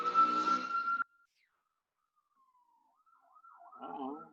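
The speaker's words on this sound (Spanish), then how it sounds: "Temo que no era una ambulancia, era una patrulla siguiendo a unos que andan en la calle." Police patrol car siren passing in a street: a steady wail that cuts off, a faint tone trailing away, then a warbling siren rising again in the distance.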